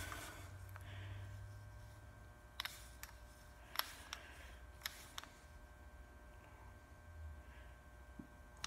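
A torque wrench tightens the brake rotor and caliper on a Corvette C6 during hub and bearing replacement. It gives a handful of crisp, isolated clicks in a quiet garage.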